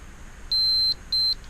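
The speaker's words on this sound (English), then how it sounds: "Confirmation beep." Two short electronic beeps from a PHEV box tuning module confirming a sent throttle map, the first slightly longer, clear and close against faint background hiss.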